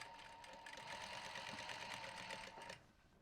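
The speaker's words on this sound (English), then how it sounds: "We're going to do a line of top stitching about 1 millimetre away from the edge." A sewing machine runs a steady line of top stitching along the edge of a denim bumbag, a rapid even whirring patter lasting a few seconds before stopping, close and fairly quiet with no talk.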